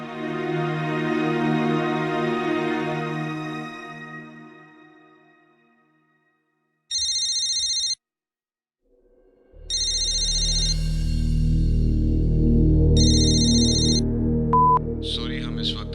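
A telephone rings in short bursts of electronic tones, separated by pauses, after a stretch of music has faded out. A recorded voicemail voice then picks up over low background sound.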